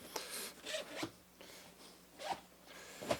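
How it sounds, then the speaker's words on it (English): A zipper opens on a panel of a CVLIFE tactical gun range duffle bag, several short rasping pulls in irregular succession, close and fairly quiet, with no talk. "When the zip panel comes down,"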